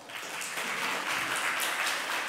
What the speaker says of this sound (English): Please give applause to him.